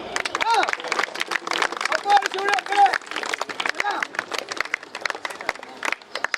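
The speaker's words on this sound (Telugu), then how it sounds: "చూసేవాళ్ళు చప్పట్లు కొట్టాలి గట్టిగా." A crowd claps in a dense, continuous patter, fairly loud and close, with voices and bustle mixed underneath throughout, at a street performance by a decorated trained bull.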